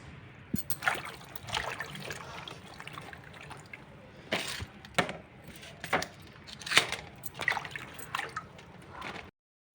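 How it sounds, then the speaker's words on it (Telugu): Fresh red chillies are washed by hand in rock-salt water, with steady splashing, trickling and dripping broken by repeated sloshes as they are handled. The sound is close and moderate, with no voices. "వీటిని కల్లుప్పు వాటర్లో వేసి బాగా కడిగి తుడిచి పెట్టుకుందాం"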